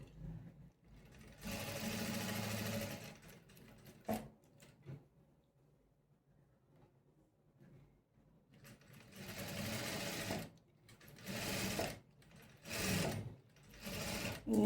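Sewing machine stitching along the edge of blouse fabric in two bursts of rapid, close mechanical whirring, separated by a quieter pause with handling clicks, the second run stopping and starting in short spurts.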